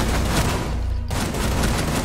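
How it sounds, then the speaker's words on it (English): Shotgun fire in Rainbow Six Siege: loud, close blasts in a rapid barrage, broken by one brief gap before the firing resumes just as heavily. "I love that shotgun."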